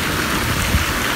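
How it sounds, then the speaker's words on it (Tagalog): Steady rain mixed with snow on a cold, windy day outdoors near a Costco parking lot, a loud, dense, continuous hiss with no break. "Kasi medyo mahangin, tapos umuulan, tapos snow mix."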